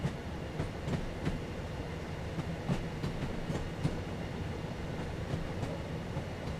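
A Birmingham Cross City Line train picking up speed between Redditch and Four Oaks, heard as a steady, dense rumble of wheels and running gear with faint rhythmic clicks of rail joints throughout.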